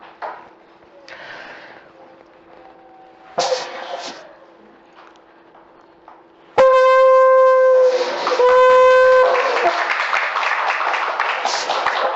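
A church congregation at an Easter service bursts into clapping and cheering after a loud, sustained trumpet blast, the crowd noise building into a thick, continuous roar toward the end.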